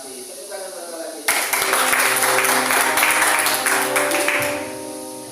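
A church congregation breaks into loud, sustained applause that starts abruptly and fills the room for several seconds before tapering, with a voice and sustained musical tones underneath.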